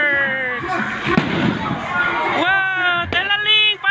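Fireworks bursting with a few sharp bangs and crackles, nearly buried under loud excited cheering and shouting from people close by.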